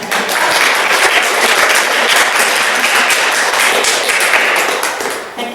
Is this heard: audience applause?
yes